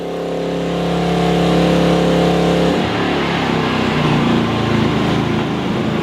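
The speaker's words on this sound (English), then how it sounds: "As soon as I turned on, the generator increased revs automatically to cope with the load." A Maxpeedingrods MRX3500 generator hums with a steady tone, then its engine picks up revs under the load of a 2200 watt kettle, changing to a rougher, busier running sound partway through.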